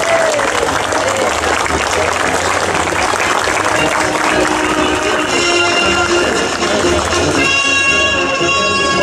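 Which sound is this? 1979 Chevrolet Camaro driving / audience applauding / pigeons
audience applauding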